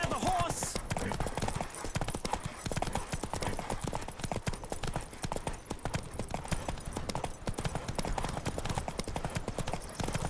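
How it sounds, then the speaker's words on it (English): Galloping hoofbeats from Roach, the horse in The Witcher 3, pounding in a rapid steady rhythm, loud and close for the whole stretch, with a brief voice or game sound near the start. "Don't spare the horse!"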